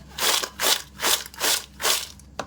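Crispy fried brinjal pakoda crunched up close in about five sharp, evenly spaced bites, each a brittle burst with brief quiet between.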